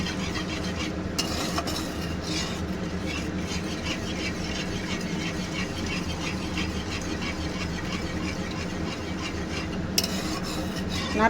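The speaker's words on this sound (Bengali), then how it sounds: "সেজন্য নেড়ে নেড়ে নেড়ে নেড়ে আমি হোয়াইট সসটা বানিয়ে নিচ্ছি" White sauce of cold milk stirred continuously in a pan, a steady close scraping and swishing of the utensil against the pan bottom that runs unbroken throughout, with faint clinks of metal.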